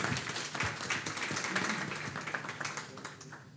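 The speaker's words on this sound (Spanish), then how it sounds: "Un fuerte aplauso." A crowd at a panel on green and social bonds claps for a speaker who has just been introduced. The applause is dense and continuous and fades slightly toward the end.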